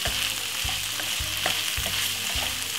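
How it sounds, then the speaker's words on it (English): Meatballs with garlic and spring onion pan frying, a constant loud sizzle with regular stirring scrapes every half second or so, close up. "So it's a pan fry meatball."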